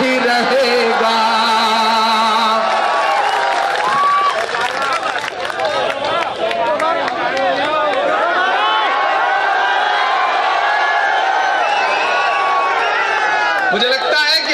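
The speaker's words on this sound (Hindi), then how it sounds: "मुझे लगता है कि अभी ये तालियां भोपाल तक है" A large audience at a poetry recital in Bhopal bursts into sustained applause and cheering with shouts and whoops, dense and continuous throughout.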